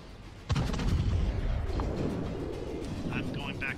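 A torpedo striking a battleship in a naval combat video game makes a sudden heavy boom, followed by a loud sustained rumbling roar that slowly fades under a steady background of game noise.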